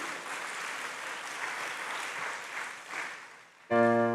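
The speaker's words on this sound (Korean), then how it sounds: "그 은혜 주신 하나님께 영광의 박수 돌리겠습니다" Congregation clapping in praise during a Sunday service at a church in Gwangju, Gyeonggi, a steady moderate wash of applause lasting about three and a half seconds before giving way to a sustained musical tone.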